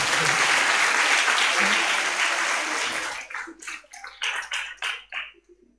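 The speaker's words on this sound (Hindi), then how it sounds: "एक बार ताली बज जानी चाहिए अपन सबकी।" Audience applause at a Jain religious discourse, a dense steady wash of many hands clapping for about three seconds, then thinning into scattered, separate claps as it fades out.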